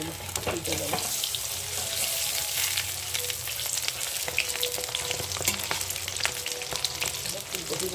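Cauliflower and eggplant fritters fry in oil with a continuous bubbling sizzle and scattered sharp crackles and pops, steady from start to finish.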